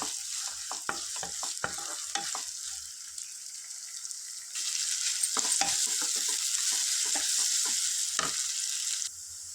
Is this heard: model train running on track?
no